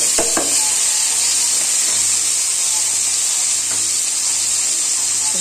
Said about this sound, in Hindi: फ्राई करती हूँ।